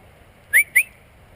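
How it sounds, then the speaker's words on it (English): Two short, sharp rising whistles in quick succession, clear and fairly close, over a quiet background hum. "There was another whistle."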